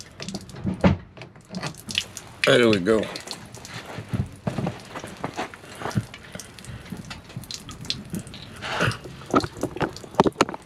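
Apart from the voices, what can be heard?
water draining from RV plumbing low point drains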